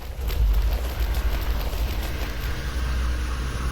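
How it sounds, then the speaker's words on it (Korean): A loud, rough airboat engine roar in the video game PUBG, with a deep rumbling drone and airy whoosh, steady and close throughout. "두 번째에는 에어보트의 사운드"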